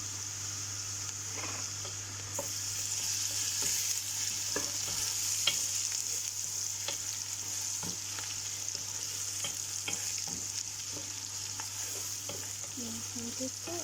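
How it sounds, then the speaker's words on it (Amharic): Onions frying in a pan until browned give a steady, close sizzle with scattered crackles and pops that lift slightly after the first couple of seconds, under a constant low hum and with no talking. "ሽንኩርቱ በደንብ ቀላ እስከሚል ድረስ ነው እንደዚህ የምጠብሰው"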